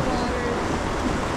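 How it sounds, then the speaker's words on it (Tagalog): Strong ocean waves at sea with a ship passing by, heard as a loud, continuous broadband rush and roar of water and wind across the whole short stretch. "Lakas ng alon, may dumaang barko."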